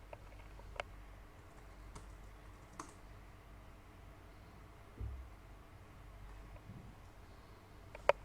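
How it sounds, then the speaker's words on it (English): Typing a command on a computer keyboard, sparse quiet key clicks and taps scattered across a near-silent background, with one sharper click at the end and no voice. "we're simply gonna need to type the following command in a Meteor project"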